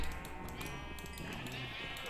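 Sheep in a Minecraft farm bleat repeatedly in short, thin cries over steady game background sound, with no talking.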